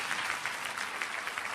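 A seminar audience gives a short round of applause, a dense, fairly close burst of clapping that continues without a break for the whole moment.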